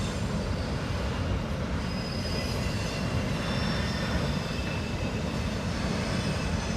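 A BNSF train rumbles steadily across the Salmon Bay Bridge, a dense continuous roar of wheels on rails with thin metallic squeals riding over it throughout.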